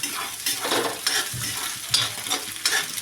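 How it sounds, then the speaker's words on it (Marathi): Eggs fry with turmeric in a pan, a continuous close sizzle broken by rhythmic scraping and stirring of a spatula against the metal. "अंडी छान फ्राय करून घेऊ आपण"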